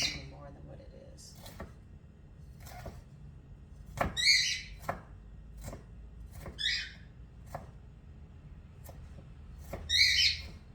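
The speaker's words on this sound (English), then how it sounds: "fresh piece of ginger, and then, you know, dicing it up a little more than what it is" Fresh ginger is diced with a knife on a board for a curried corned beef dish: a handful of sharp, separate chops spread over several seconds, near and moderately loud, with quiet room noise between the strokes.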